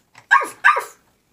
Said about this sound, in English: Dog, that was the dog saying, make sure to like, comment, and subscribe.